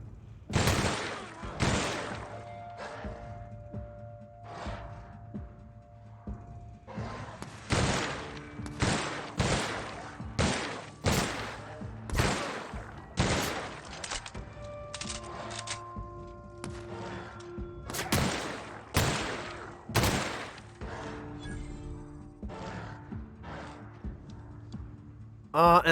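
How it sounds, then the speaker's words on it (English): Gunfire in the video game The Outer Worlds on PS4 Pro: repeated loud sharp shots and short bursts at an irregular pace through the whole stretch, with a voice talking at times among the blasts. "Alright, who is still shooting?"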